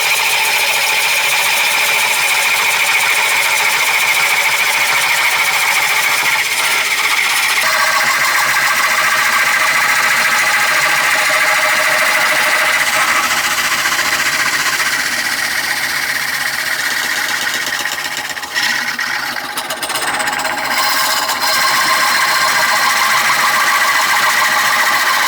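A woodturning lathe tool cutting a wooden bowl, giving a loud continuous whirring drone with a steady tonal hum that shifts slightly as the cut changes, with no talking.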